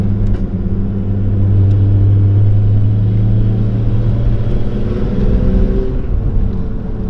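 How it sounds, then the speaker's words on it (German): A VW Golf VR6 with engine damage and a knocking fault runs and pulls under load, a loud, close, steady low rumble with a droning tone throughout. "Das ist ein Klopfgeräusch, was normal ist."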